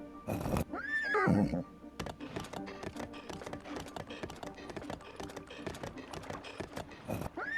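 A horse in Zelda: Breath of the Wild gives a loud, close neigh near the start, followed by a steady run of hoof clip-clops, with another brief whinny-like burst near the end.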